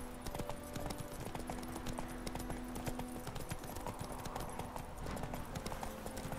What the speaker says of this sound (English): The horse should stay on the path.